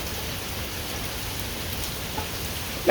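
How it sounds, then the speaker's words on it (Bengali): Onion and garlic paste sizzle in hot oil in a home kitchen, a dense steady crackling hiss that carries on without a break, close and fairly loud. "তেলে হচ্ছে ফোড়ন দিয়ে তারপরে পেঁয়াজ দিছে পেঁয়াজটা ভাজি ভাজি হলে রসুন বাটা দিয়ে দিছে"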